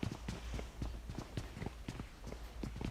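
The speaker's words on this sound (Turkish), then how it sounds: "sürünme sesi geliyor ama nerede bilmiyorum ki" Enemy crawling in PUBG Mobile: a faint, rhythmic series of soft scuffing thumps, irregularly paced over a low background hum, with no talk.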